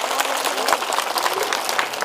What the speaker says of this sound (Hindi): एक बार जोरदार तालियां हो जाए आप सबके इंतजार के लिए।